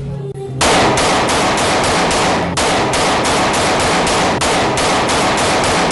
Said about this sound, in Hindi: शहर में एक के बाद एक हवाई फायरिंग का वाकया।